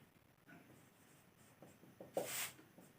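Chalk or pen scratches across a board or paper during a class-10 maths lesson, faint scattered strokes with one louder brief scrape near the end, quiet room.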